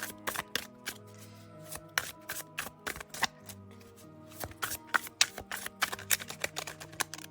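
Tarot cards shuffled by hand in a rapid, uneven run of crisp snaps and taps, close and fairly loud over steady soft background music, with no voices.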